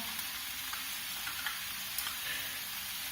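Single cream poured into a hot pan, giving a steady, close sizzle with a few faint clinks and no talking.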